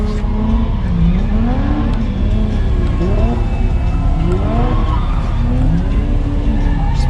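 Automatic V6 Camaro drifting on a race track, loud close engine revving with rising and falling pitch sweeps and tire squeal running continuously throughout.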